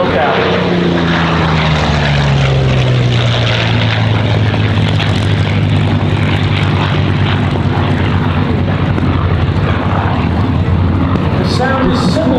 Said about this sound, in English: following is the Curtis P-40 Warhawk, which was our frontline fighter when World War II broke out